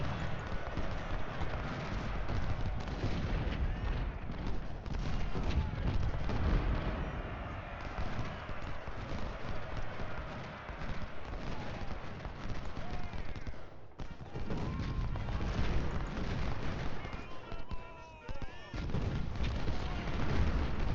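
Civil War artillery and musket fire from Ultimate General Civil War at the Battle of Bull Run rolls on steadily, with booming cannon shots and crackling volleys that carry on with only brief lulls.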